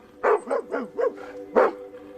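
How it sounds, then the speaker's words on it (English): A family dog barks five times in quick succession, sharp close barks in a steady rhythm with a short gap before the last one. "After meeting Rachel, he hears the family dog, Shasta, barking and responds by barking back, apparently try"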